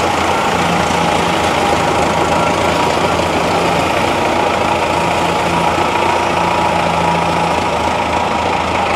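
A tractor fitted with a loader runs steadily throughout with a deep, continuous rumble and idling drone, loud and close, with no voices.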